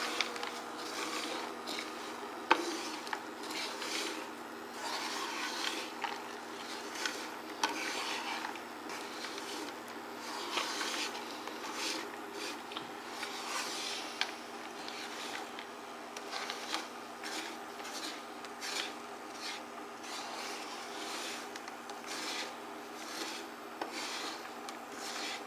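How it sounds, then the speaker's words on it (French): Caramel with hazelnuts stirred in a frying pan for praline, giving a steady close rubbing and scraping texture with faint bubbling and occasional light clicks, no talking. "Donc là on remue, ça commence à bouillir."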